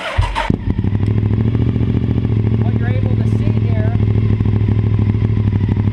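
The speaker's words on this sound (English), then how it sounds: "go ahead and fire up the motorcycle" A motorcycle engine cranks and fires up, then settles into a loud, steady idle up close while someone talks over it.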